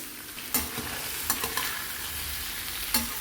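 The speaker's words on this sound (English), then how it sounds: "Heat a tablespoon of ghee or oil and just quickly fry the prepared nuggets" Soya nuggets fry quickly in a tablespoon of ghee or oil, a continuous close sizzle broken by a few sharp stirring clatters, with no one talking.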